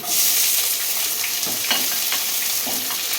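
Onion frying in a pan for semolina upma, a loud continuous sizzle broken by several close stirring scrapes.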